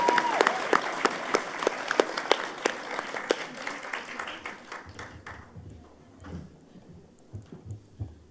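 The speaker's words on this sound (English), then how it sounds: "Another round of applause for Cameroon Catalyst." Audience applause at a volunteering awards ceremony: a room full of people clapping steadily for several seconds, then thinning out into scattered claps and low murmurs as it dies away.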